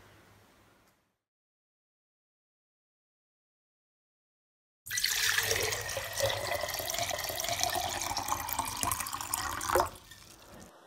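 Water from a jug pours into a washing bowl during a church worship play, a steady splashing stream that runs for several seconds after a silent gap, then stops abruptly.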